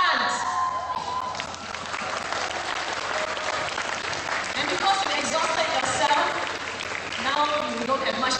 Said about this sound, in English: You don't have much energy to cheer.